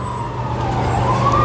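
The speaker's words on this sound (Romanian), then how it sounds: "Iară vine o salvare." An ambulance siren on a Romanian road, a sustained tone gliding up and down over steady traffic rumble and growing louder as it approaches.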